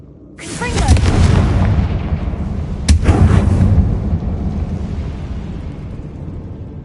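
Confringo fire spell blasting in Hogwarts Legacy on PS5, in a winter setting: a loud booming burst opens with a rumbling roar, and a second sharp blast follows a few seconds later before fading into a low crackling tail.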